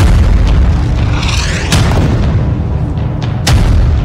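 An air strike explosion on a Gaza camp, a heavy low boom followed by further sharp blasts and rumbling bursts, loud and close with no voices.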